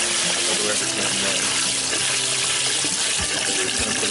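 Water pours into the water pan of a smoker set up for smoking fish, a steady loud splashing gush that runs continuously, with someone talking over it.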